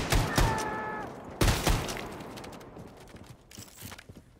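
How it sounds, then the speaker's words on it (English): Video-game gunfire, a pair of sharp blasts close together, a short pause, then two more reports, each decaying quickly, with fainter scattered impacts and footsteps afterward. "That sounds like a shotgun guy."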